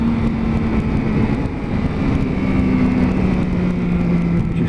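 A steady, loud Yamaha Tracer motorcycle engine drones through its standard exhaust with a low rumble, holding a fairly constant pitch throughout with no speech.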